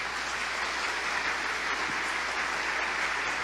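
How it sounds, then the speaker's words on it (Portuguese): A church congregation gives a steady wash of applause that stays fairly distant and even throughout, with no voices standing out. "Pode aplaudir o Senhor."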